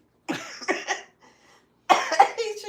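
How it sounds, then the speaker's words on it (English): A woman coughs in two separate bursts, each a short run of harsh, close coughs separated by a brief quiet pause, with no talking. "She says it and then I start coughing."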